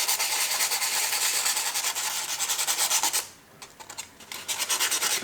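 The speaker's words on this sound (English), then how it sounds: "First we sand the shaft so it's ready to have the vibration disc glued on" A motor shaft being sanded by hand, giving a fast, rough, rhythmic rasping that runs steadily, stops briefly partway through, then resumes close up.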